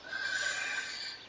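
A horse on a working farm lets out a single short, high whinny at moderate distance, with no speech around it.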